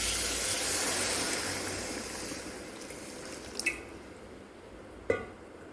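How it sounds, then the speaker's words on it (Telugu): Water poured into a pan of egg curry spiced with chilli powder, a steady broad rush that fades gradually, followed by a couple of brief clatters and a sharp knock near the end. "ఇందులో మనం ఇప్పుడు వాటర్ పోసుకోవాలండి"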